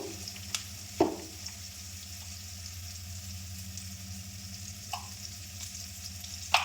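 Onion and green chili frying in a seasoning oil tempered with sesame seeds for Gujarati methi and urad dal muthiya dhokla, giving a steady close sizzle with a few sharp stirring clinks of a spoon against the pan.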